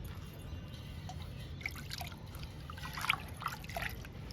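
Fermented rice water being poured for plants, a soft close trickle and dribble of liquid with a few brighter splashes near the end, no voices.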